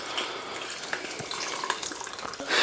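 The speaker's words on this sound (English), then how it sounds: "Any nasty bits in there, the sieve's going to catch it, but all the juice is going to go through." Freshly squeezed juice pours through a kitchen sieve in a steady, close trickle and splash, continuous over a few seconds.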